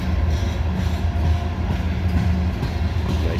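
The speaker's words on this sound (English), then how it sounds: "nice to see back-to-back trains come through here" A heavy CSX coal freight train rolls past on the tracks at close range, a steady loud rumble with rhythmic wheel clatter throughout and no voices.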